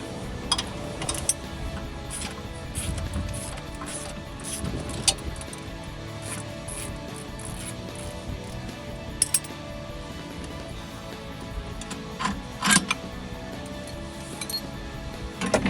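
Metallic clinks and light ticking come from a bolt being worked out of a shock absorber on a Jeep Wrangler JL 4-door, close by and fairly sharp over a steady low garage hum, with scattered taps of tools and hardware.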